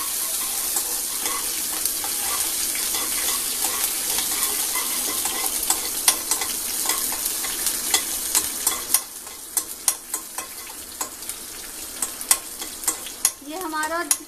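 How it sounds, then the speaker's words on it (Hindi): Cumin, mustard seeds and green chili fry in hot oil with a steady sizzle, sharp crackles and pops growing denser over time, and a brief scrape of stirring near the end. "फ्राई हो गया है हरी मिर्च, और हमारा जीरा और राई क्रैकल हो गया है।"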